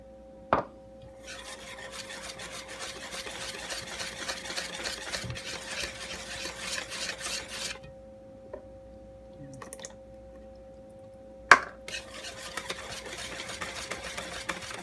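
Crepe batter made with milk and butter is whisked in a bowl, producing bursts of rapid scraping strokes separated by short pauses, with a couple of sharp clicks against a faint steady hum.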